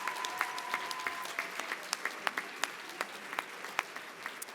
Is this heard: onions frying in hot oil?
no